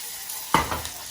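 Lamb chop placed straight onto a hot pan, a sudden loud sizzling burst midway that tails off into a softer hiss, brief and close.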